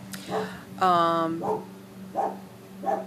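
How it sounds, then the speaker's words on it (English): A dog barks several times nearby, sharp and repeated, with one longer whining bark, while a person talks quietly. "there's my dog in the window. Hello, Sugar. Barking at me"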